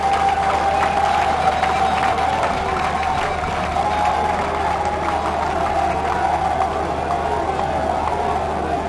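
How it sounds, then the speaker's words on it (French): Steady applause from a crowd at an inauguration ceremony for the President of the Republic, a continuous even wash of clapping with some cheering, loud and sustained throughout, with talk faintly underneath. "S'il vous plaît, applaudissez pour fort pour le président de la République."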